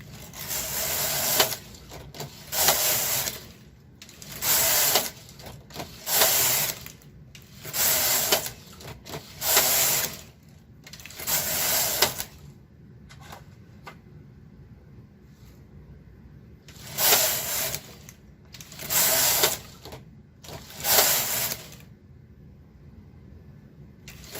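An SK 560 knitting machine carriage is pushed back and forth across the needle bed, making repeated loud whooshing, rattling passes about a second long each, in bursts separated by quiet pauses.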